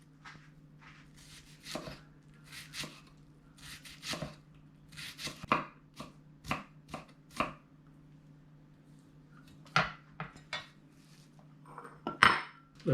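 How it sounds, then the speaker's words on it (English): Knife dicing white onion on a cutting board: a run of crisp, irregular chopping strikes, some in quick clusters, close and clear with no talk over them. "Just kind of dice it like this."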